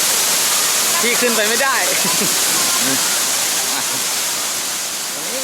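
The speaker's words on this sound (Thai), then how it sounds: "โอ้นี่ไงน้ำตกไซโยกน้อยโอ้โหนานๆจะเห็นน้ำตกเยอะขนาดนี้" Sai Yok Noi waterfall in heavy flow roars as a constant broadband rush, close and loud, while people talk briefly over it.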